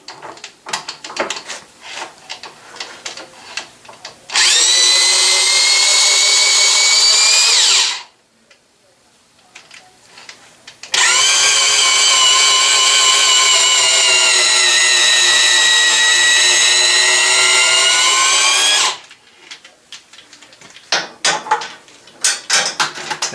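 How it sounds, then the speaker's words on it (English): A 110 volt corded electric drill runs in a workshop in two long bursts, a loud steady whining drone, with clattering shop handling noises and short pauses between the runs. "I am going to use 110 volt instead of the foolish battery drill."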